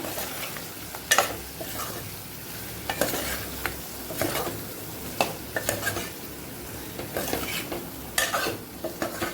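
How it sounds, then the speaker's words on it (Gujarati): Potatoes sauté in a pan with red chilli powder and spices for a Kathiyawadi potato curry. A steady sizzle runs under repeated spoon scrapes and clinks against the metal pan at irregular intervals, with no talking. "મસાલાથી સરસ બટેકા કોટિંગ થઈ જાય ત્યાં સુધી આપણે એને સાતળવાનું છે"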